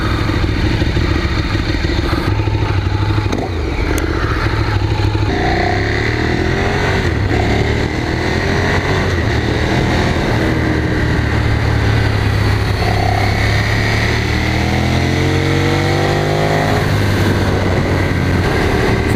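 A Ducati SF848 Streetfighter motorcycle being ridden, its engine loud and close, rising and falling through gear changes over constant rushing wind noise.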